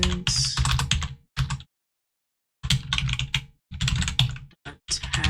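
Keys clatter on a computer keyboard in quick close bursts broken by short pauses, with no talking.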